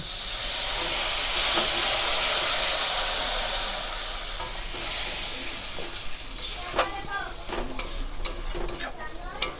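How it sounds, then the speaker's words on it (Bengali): A splash of water poured into spice masala frying in oil for an egg curry sets off a loud hissing burst of steam that fades, followed by clinking and scraping of stirring in the pan. "এবার আমরা দিয়ে দেবো অল্প পরিমাণে আবারও জল।"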